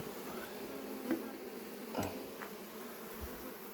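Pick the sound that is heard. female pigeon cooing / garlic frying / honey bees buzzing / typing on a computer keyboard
honey bees buzzing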